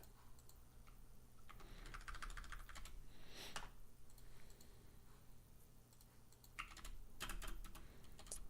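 Fingers tap out a command on a computer keyboard, a close, quiet run of irregular clicking keystrokes with a few louder key presses, over a faint steady background hum.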